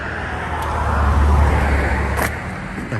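Yamaha Ténéré 700 motorcycle with its CP2 twin engine riding along, a steady loud engine drone with heavy wind rush and no speech.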